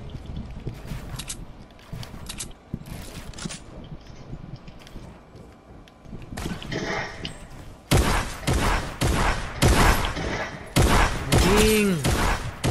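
Fortnite gunfire in a creative scrim match, scattered shots early and then a louder run of rapid bursts near the end, with game effects around them.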